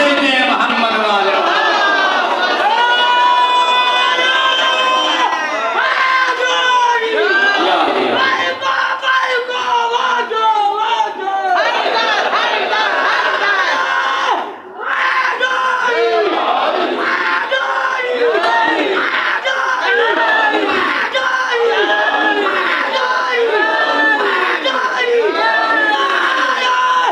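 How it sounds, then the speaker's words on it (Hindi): A congregation at an Arbaeen majlis loudly recites salawat together, a dense and continuous chorus of many voices in unison that carries on with only one brief dip. "सलावत दे दे मोहम्मद वाले"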